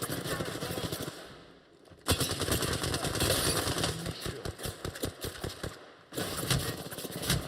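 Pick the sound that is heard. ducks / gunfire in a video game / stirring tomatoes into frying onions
gunfire in a video game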